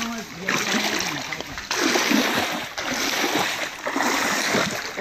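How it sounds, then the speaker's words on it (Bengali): Heavy rushing water at the Shupto Dhara waterfall near a cave, a loud continuous broadband roar with splashing surges that swell and dip every second or so, close by and filling the whole clip. "কঠিন ঝর্ণার শব্দ, ওখানে যেতে হবে।"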